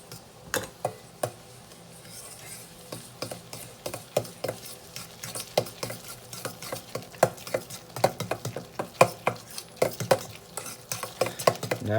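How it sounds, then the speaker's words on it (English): A fork stirs a mixture of dill, parsley, salt and pepper in a bowl, producing quick, irregular clinks and scrapes that grow busier and sharper toward the end, heard close and alone. "We're just going to stir this together with the fork just until combined."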